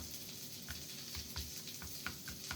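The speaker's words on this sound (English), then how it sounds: "that sizzling is my butter" Butter, about a tablespoon and a half, sizzling in a pan for a breakfast burrito, a faint, steady crackle with small pops and no talk.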